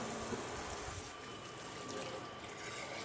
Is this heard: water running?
yes